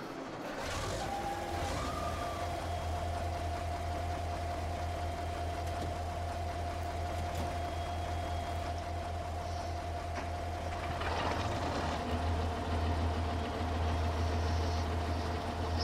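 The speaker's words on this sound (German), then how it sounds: "dafür starten wir mal hier unsere fetten Traktoren" Heavy K700 tractor engines idle in Farming Simulator 22, a steady low rumbling drone throughout, with a brief rise in revving near the end and faint mechanical clicks over the top.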